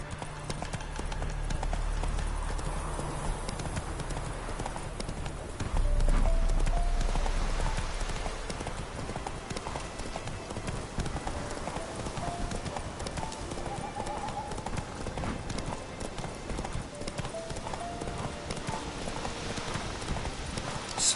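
Roach, a horse in the video game The Witcher 3, trots with rhythmic hoof clip-clops over a bed of ambient game sound, steady and moderately close, with a brief louder low swell early on.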